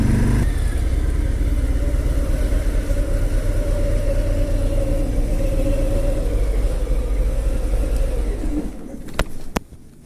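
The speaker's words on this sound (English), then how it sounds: "2018 Harley Davidson Fat Bob. More stoked on the bike now after taking it for a little bit longer, more thorough ride" A 2018 Harley-Davidson Fat Bob with a 107 cubic inch engine rumbles steadily and loudly while being ridden, a continuous close engine drone that drops off abruptly near the end, leaving a few sharp knocks.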